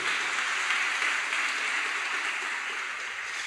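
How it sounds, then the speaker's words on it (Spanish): A church congregation applauding, a dense steady patter of many hands clapping together, sustained and fairly loud for a few seconds with no talk over it. "Un aplauso a nuestro Salvador bendito."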